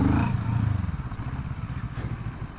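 A CFMOTO 650NK motorcycle engine snatching hard in first gear, a loud close throaty rumble that pulses and rises as the bike pulls away.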